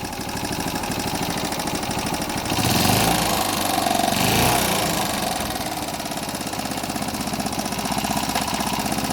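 A Honda CF70 motorcycle engine runs close by and loud, holding a steady idle broken by a brief rev that lifts and then settles, its revs slow to drop back.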